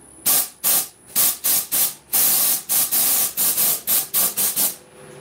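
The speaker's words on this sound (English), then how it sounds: "So I'll just give this back end a blast with the airline" Compressed air from a workshop airline blasting debris off a wooden fruit bowl being hollowed on a lathe, in a rapid series of about a dozen loud, sharp hissing bursts with brief gaps between them.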